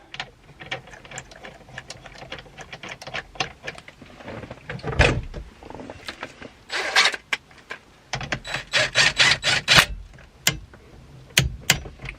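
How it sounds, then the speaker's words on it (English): A ratchet tightens the steering wheel bolt on a BMW 1 or 3 Series (E81–E93), with close, rapid clicking in short bursts and brief pauses between strokes. "now that that's on, I guess we can reinstall the bolt"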